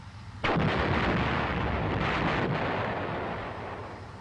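Main gun of an M551 Sheridan armored reconnaissance airborne assault vehicle fires a single loud, booming shot that hits suddenly and then rolls out into a long, slowly fading roar.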